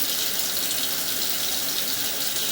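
Steady rushing flow of water draining through a pipe in a house plumbing line, loud and continuous with an even hiss and no breaks.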